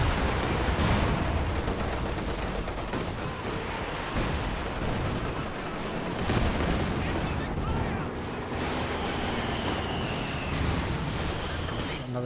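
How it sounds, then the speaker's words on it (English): Stuka dive bomber barrage in a World War II strategy video game: dense, continuous rumbling explosions and gunfire-like bursts fill the scene at steady loudness, with a faint voice underneath. "Another Stuka barrage."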